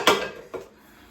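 A metal cooking pot and a teapot are handled, giving two sharp, close clanks about half a second apart, the first louder than the second, with quiet ringing afterward.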